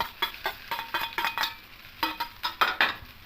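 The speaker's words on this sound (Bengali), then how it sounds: "দিয়ে আবারও খুব ভালো করে মিশিয়ে নেব" Pasta being stirred and mixed with bhujia in a pan, a series of short scraping and clinking utensil strokes in a steady, close rhythm with no talking.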